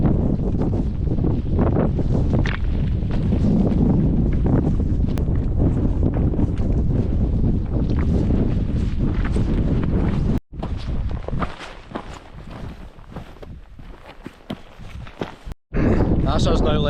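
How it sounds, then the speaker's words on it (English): Gusty wind buffets the microphone on the descent of Schiehallion, a Scottish mountain, making a loud, constant roaring rumble with scuffing footsteps and voices mixed in, briefly dropping out twice near the end. "The wind's now is just starting to pick up"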